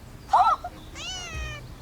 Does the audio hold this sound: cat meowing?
yes